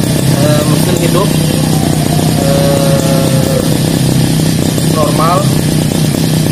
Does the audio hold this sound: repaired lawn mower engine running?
yes